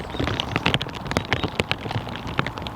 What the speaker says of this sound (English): it's raining reasonably hard.